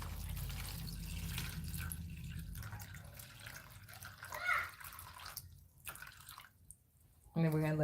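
Water is poured over Roselle and Marconi giant pepper seeds to soak them, giving soft splashing and dripping sounds beneath a person talking, followed by a louder burst near the end.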